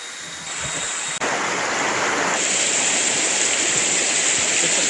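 Pelangi waterfall at Sungai Lembing, Kuantan, pours down in a loud, steady rush of water close by. The dense roar fills the whole stretch without a break, and no voices are heard.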